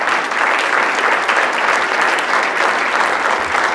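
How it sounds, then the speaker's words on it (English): Steady, full applause from a school audience at a student gallery event, even and continuous throughout with no break. "Let's give them a round of applause."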